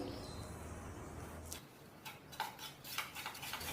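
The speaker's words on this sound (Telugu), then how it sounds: "ఇందులోకి ఒకటిన్నర టీ స్పూన్ల వరకు కార్న్ఫ్లోర్ని యాడ్ చేసుకుని బాగా మిక్స్ చేసుకోవాలి" A spoon stirs cornflour into milk in a bowl, giving soft scraping and a few light clinks against the bowl that grow more frequent toward the end, close and fairly quiet with no talk.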